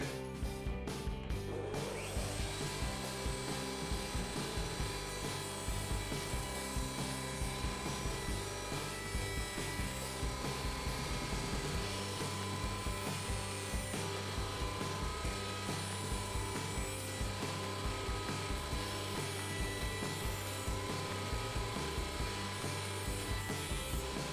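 A router bit cuts a wooden bandsaw insert, the workpiece pushed along with a stick. A loud, steady machine whine and cutting roar runs without a break for the whole stretch.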